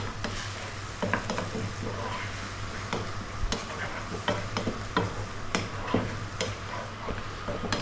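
Garlic with chili, turmeric and cumin frying in a pan for spicy Indian-style fried potatoes, a steady close sizzle punctuated by repeated scraping stirs every half second or so, no voices.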